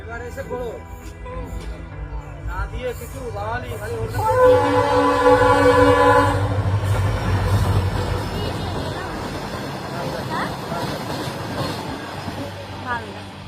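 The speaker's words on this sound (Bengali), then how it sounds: "ওই দেখো ট্রেন আসছে" A train rumbles past nearby, its horn blaring for a couple of seconds amid steady rail clatter, with people talking in the background.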